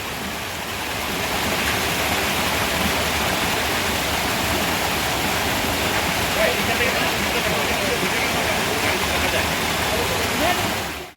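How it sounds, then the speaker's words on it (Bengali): Heavy rain pouring down outdoors in Darjeeling, heard from inside a rock cave shelter as a dense, loud and unbroken roar of falling water from start to finish. "তো দেখো ঝুমঝুম করে বৃষ্টি পড়ছে।"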